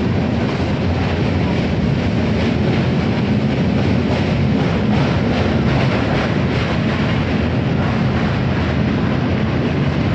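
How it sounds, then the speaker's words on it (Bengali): A train pulling into Varanasi Junction at night gives a constant loud roar and rattle of wheels on track with wind buffeting, steady throughout and without clear talk. "এইমাত্র ট্রেন ঢুকলো, এখন 11টা 5 রাত্রি।"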